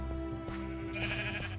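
Sheep bleat in the video game Minecraft, several overlapping calls close together over a dense background of game sound and music.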